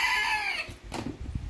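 A mottled partridge hen gives a short drawn-out call followed by a few soft low clucks, close by in a farm pen.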